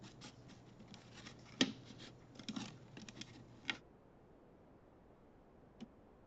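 A few crisp snips and crinkly scrapes of scissors cutting a plastic bottle, close up, with rustling between them, then near silence with one faint click.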